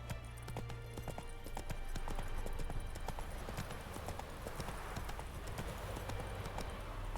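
Roach, the horse in The Witcher 3, gallops steadily with rapid rhythmic clip-clopping hooves, close and continuous, under faint game ambience.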